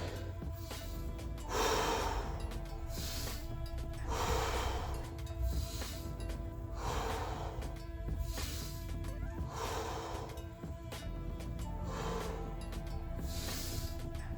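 Heavy rhythmic breathing in and out during an at-home workout, about six slow, close, hissing breath cycles over a steady background hum.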